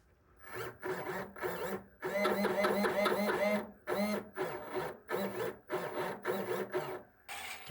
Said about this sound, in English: Screw them together.